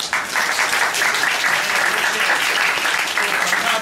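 A theater audience gives sustained, dense applause for the cast of a Korean musical at the curtain call, loud and even from start to finish with no voices standing out.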